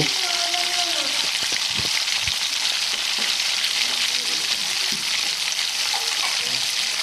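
Small hilsa fish frying crisply in hot oil in a pan, a loud dense continuous sizzle and crackle up close, with occasional scraping stir sounds and no talking.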